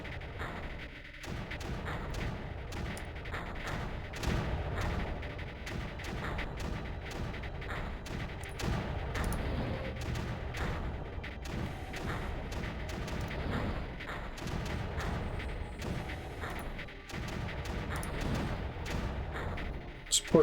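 Repeated mortar launches and muffled booms in the strategy video game Creeper World, a steady stream of dull thumps spread across the clip at moderate level beneath busy game noise.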